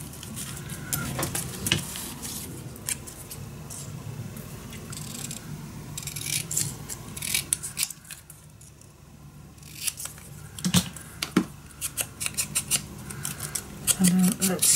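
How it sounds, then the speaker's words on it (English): Scissors snip paper into shapes for a handmade wedding mini album, a series of close, crisp cuts in bursts with short pauses between them. "I'm just going to cut it down in all shapes I like."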